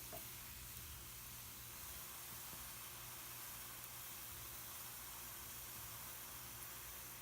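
Steady, even sizzling hiss of sodium acetate reacting in water and boiling it, like liquid bubbling hard, continuous and fairly faint, with no voices.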